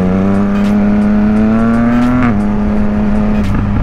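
A Yamaha MT-09 three-cylinder motorcycle engine revs loud and close, its rough growling tone climbing steadily, dropping briefly, then holding high, with no voices over it.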